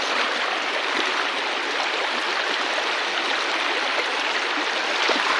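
Strong river current rushing steadily, a dense, continuous broadband roar of flowing water close by with no pauses, filling the whole stretch at an even loudness.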